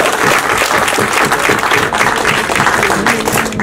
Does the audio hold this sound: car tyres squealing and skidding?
no